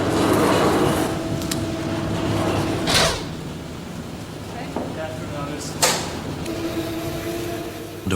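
A hydro-extractor spin dryer at a Dublin woollen mill spinning water out of wool gives a steady, loud mechanical whirring drone with a humming tone, broken by a few sharp clunks.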